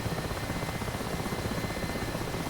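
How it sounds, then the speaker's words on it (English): Mi-8 helicopter in DCS World flying with one engine out, a dense steady rotor thump and turbine roar from inside the cockpit, loud and continuous with no talk. "There is definitely a distinct lack of power in this helicopter with one engine"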